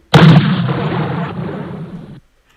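Synthesized explosion sound effect from a C++ program, a single loud broadband burst that holds steadily for about two seconds before cutting off abruptly, with no talk over it.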